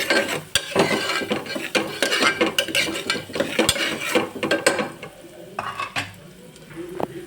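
Onions and salt are stirred in a pan for masala khichdi, with a spoon scraping and clattering against the metal in irregular strokes over a soft sizzle, close and fairly loud.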